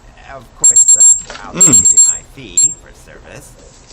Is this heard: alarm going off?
yes